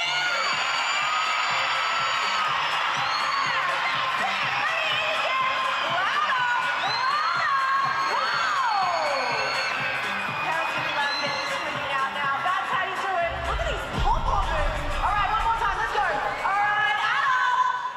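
A crowd of children and adults in a basketball arena at a WNBL women's game cheers and shouts together in a loud, sustained roar with high-pitched whoops. A deeper thud and more cheering follow near the end.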